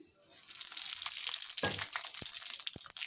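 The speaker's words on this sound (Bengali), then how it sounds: "তেল গরম হয়ে গেছে হুম তেলে আমি শুকনো লঙ্কা দেবো ফোড়ন" Dry red chillies crackling in hot oil for a tempering before khichuri, a bright hissing sizzle with a few sharp pops and a stir, close and moderately loud, no talk.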